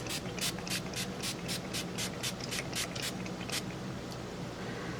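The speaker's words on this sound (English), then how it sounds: "I'm going to use my Urban Decay All Nighter Setting Spray." Urban Decay All Nighter setting spray fires about a dozen quick, close hissing pumps in a fast even rhythm, followed by one faint final spritz after a pause.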